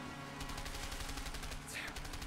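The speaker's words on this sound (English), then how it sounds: "Stop shooting at me!" Rapid repeated gunfire from the video game A Way Out, a steady run of quick shots over a busy game soundtrack, fairly faint in the mix.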